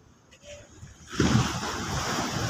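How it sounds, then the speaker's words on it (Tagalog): Ocean waves breaking on a beach, a quiet wind-swept lull giving way to a loud rushing crash of surf that keeps washing on close by. "Ay, lakas ng alon, no?"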